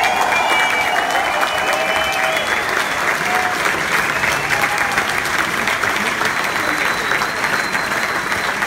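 A concert crowd at a live show in the Theaterfabrik in Munich cheers and applauds steadily for several seconds, with dense clapping and shouts filling the room.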